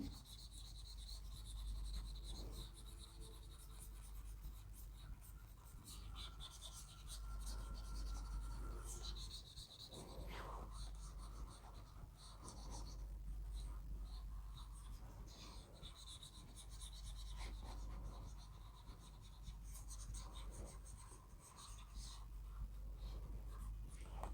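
A pen scribbles on paper to cross out messy writing during an English lesson, a soft continuous scratching rasp that runs steadily throughout, quiet and close with small pauses.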